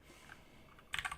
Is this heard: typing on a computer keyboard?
yes